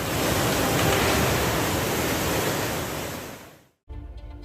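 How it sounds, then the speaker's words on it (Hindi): Loud, steady rush of Yamuna river floodwater fills most of the stretch as a broad, surging roar, then cuts out briefly before a quieter, choppier burst of flowing water returns. "पानी की ये आवाजें जल तांडव का खौफ जगा रही हैं"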